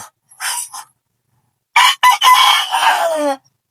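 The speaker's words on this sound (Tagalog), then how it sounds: "Akong labuyo." A labuyo jungle fowl rooster crows loudly and close, a short call followed after a pause by a longer full crow with a trailing end.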